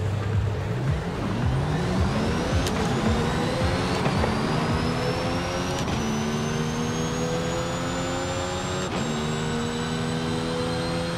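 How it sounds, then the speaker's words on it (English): AMG One hypercar in Forza Horizon 5 accelerating hard from a launch, the engine pitch climbing steadily through several gears with short breaks at each upshift, loud and continuous with no speech. "Alright, let's see how fast this car accelerates not in race mode."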